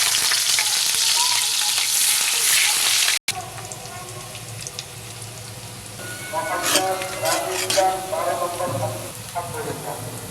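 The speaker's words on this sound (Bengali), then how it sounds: "আলু ভাজা তেলের মধ্যেই আমি পেঁয়াজ কুচি দিয়ে দেবো" Chopped onions frying in oil left over from frying potatoes for a chicken curry, a loud sizzle for about three seconds, then after a cut a quieter frying hiss with stirring knocks and a voice talking.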